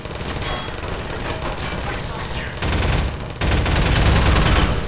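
Sustained automatic turret fire in Half-Life 2, a dense continuous rattle that grows louder and heavier toward the end, close and unbroken.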